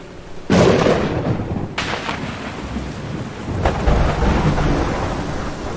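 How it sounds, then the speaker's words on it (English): A heavy downpour roars steadily, broken by a sharp crack of thunder near the start and a rumbling roll later on, with no voices. "This time, the rain was the heaviest we'd seen."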